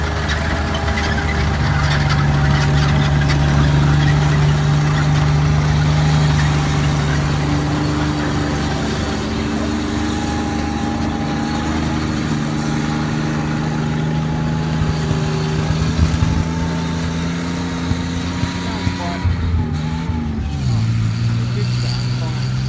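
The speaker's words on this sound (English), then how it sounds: "Now I'll let you listen to the engine note as it drives around." A WWII Tiger tank's heavy engine drones and revs steadily with deep rumbling tones, shifting pitch as it drives around, with voices talking over it.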